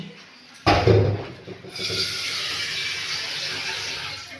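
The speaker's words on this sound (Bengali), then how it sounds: "হাঁড়িটা ধোয়া হলো," A pot is rinsed under running water, with a sharp clunk and splash at first, then a steady, close rushing stream of tap water.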